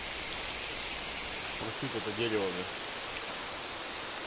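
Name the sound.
rain falling outdoors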